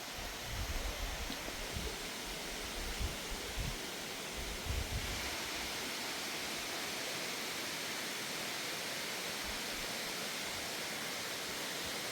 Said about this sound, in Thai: วันนี้มาเที่ยว น้ำตกกวาย อำเภอพบพระ